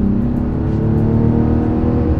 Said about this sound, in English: That's one of the noisiest accelerations that I've heard in quite a while